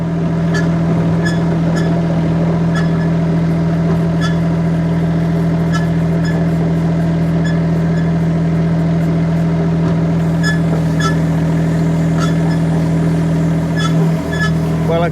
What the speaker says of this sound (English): I'm going to use the mini digger to put the tote onto the truck.